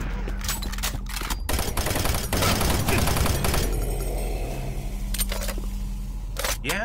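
Rapid bursts of gunfire from weapons fired at enemies in Doom 3, loud and dense, with repeated volleys, sharp impacts and game effects clustered across the span.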